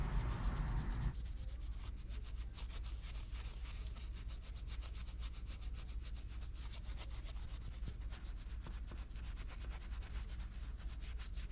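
Steady hand scrubbing on a chrome wheel, a continuous close rubbing and scraping with a fast back-and-forth rhythm, fairly quiet and without any voices.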